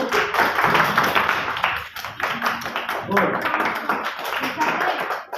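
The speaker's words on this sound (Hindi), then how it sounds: "तालियां बजाएं सभी बच्चे" A group of small children claps for a child performer at a kids' program, a quick, uneven run of claps mixed with chatter and voices nearby.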